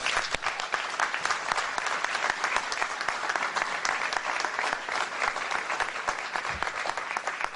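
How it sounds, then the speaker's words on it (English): Sustained applause from a sizable audience, dense clapping at an even level from start to finish with no talk over it. "Please give them another round of applause."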